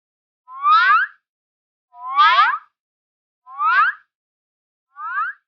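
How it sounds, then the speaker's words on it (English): A Carl Martin Axis Flanger pedal self-oscillating with no guitar signal, giving four separate swooping, sweeping tones of about half a second each, evenly spaced and moderately loud, with silence between them. "one of the fun things I did was make the pedal self-oscillate"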